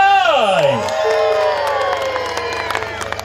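An audience at a live music show during an international paragliding event cheers, whoops and claps to welcome a band, a loud, lively burst of crowd noise.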